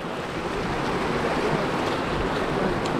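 Yaak River in Montana, its water rushing steadily and loudly with a broad, even wash of current and some wind, continuous throughout with no voices.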